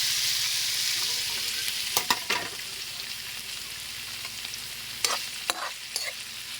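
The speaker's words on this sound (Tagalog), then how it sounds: "Nilagay muna tayo ng konting mantika lang. Kasi ipiprito ko tong muna hotdog." Hotdogs fry in a little oil in a pan, giving a steady bright sizzle throughout, with a few sharp scraping stirs around the second and fifth seconds.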